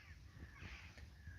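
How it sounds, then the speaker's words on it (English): Crows caw faintly in the distance, harsh calls blending over a steady low rumble of outdoor background noise. "Now, I do listen to the crows quite often."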